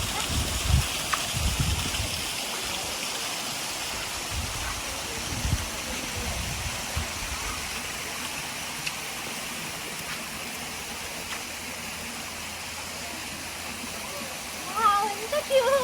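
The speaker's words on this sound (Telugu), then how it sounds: "వాటర్ ఫాల్స్ ఉన్నాయి." Small natural waterfalls in Gangwon, South Korea, pour steadily with a broad hiss of flowing water, rain also falling, while voices talk in the foreground at times.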